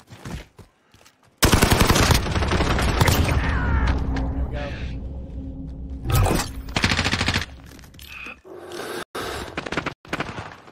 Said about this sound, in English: Gunshots, please. I need a gunshot.